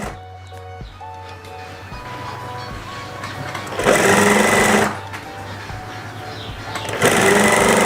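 A sewing machine stitches the collar of a Kartini-style kebaya, whirring in steady runs that stop and restart, with two louder, faster bursts near the end.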